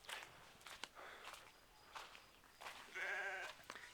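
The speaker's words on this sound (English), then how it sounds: "There are the sheep." Sheep and a ram bleating on a farm, with several short, wavering bleats scattered at moderate distance over the outdoor background and one louder, sustained bleat close by near the end.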